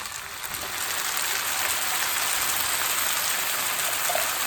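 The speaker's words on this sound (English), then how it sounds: "So I'll let it saute for about 4 minutes." A pan sauté for pizza sauce gives a dense, even sizzle that swells a little in the first second, then holds a loud, continuous hiss like rain on a hard surface with no talking.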